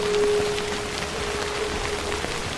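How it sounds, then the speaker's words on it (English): Steady rain hisses evenly across a broad band in the game Death Stranding, a constant wash of droplets with a faint thin tone running underneath, no voices. "This rain can stop anytime."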